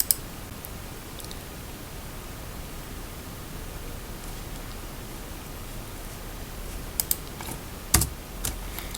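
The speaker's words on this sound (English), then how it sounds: "Type iTax portal, click enter," Someone types on a computer keyboard. The soft clicks are faint under steady hiss, with a few sharper keystrokes near the end.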